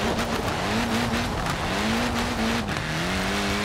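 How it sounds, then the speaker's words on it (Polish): An off-road V8 car in the video game Forza Horizon 4 drives hard with a loud, continuous engine drone that rises and falls with gear changes, plus tire squeal and skidding, close and dominant with no talk over it. "To jest mój nowy samochód offroadowy."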